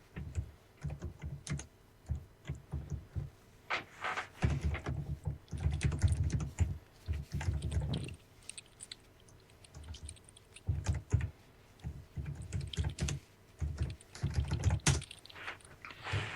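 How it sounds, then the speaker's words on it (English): Rapid typing on a computer keyboard, close and clear, comes in irregular bursts of clicking keys with short pauses, and there is no speech. "sound of typing."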